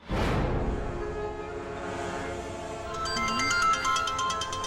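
A phone rings during a call, a loud, close electronic tonal melody that rises and shifts in steady repeating notes, alone without talk.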